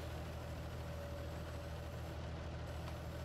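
A tractor engine idles in Farming Simulator 19 with a steady, unbroken low hum at an even level throughout, and no voices.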